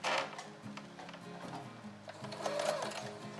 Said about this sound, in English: so now you are going to sew this at 1/4 inch